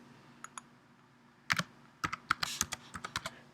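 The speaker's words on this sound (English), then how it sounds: "What I'm going to do now is type a linear equation on line 1." Keystrokes on a computer keyboard entering a linear equation into GeoGebra's CAS view: irregular clicks, a few isolated taps and then a quick dense burst of typing, close and fairly crisp with no talking.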